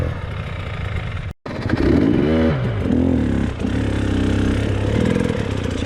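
An enduro motorcycle engine climbs a rocky hill, revving and labouring in uneven surges with clattering underneath. The engine is loud and nearby, with a brief dropout early on.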